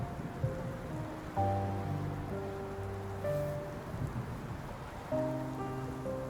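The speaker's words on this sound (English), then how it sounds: "Why are you standing here in the rain?" Soft rain patters in a story-driven video game scene, a light continuous hiss beneath sustained musical tones that swell and shift in layered chords.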